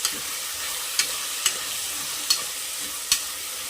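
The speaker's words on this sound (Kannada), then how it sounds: "ಇದೆಲ್ಲವನ್ನು ಚೆನ್ನಾಗಿ ಫ್ರೈ ಮಾಡ್ಕೊಳ್ಳೋಣ ಕಾಳು ತರಕಾರಿ ಎಲ್ಲ ಚೆನ್ನಾಗಿ ಫ್ರೈ ಆಗಿದೆ" Legumes and vegetables fry in a pan for pulao, giving a steady close sizzle broken by a few sharp clicks of a spoon against the pan; no talking.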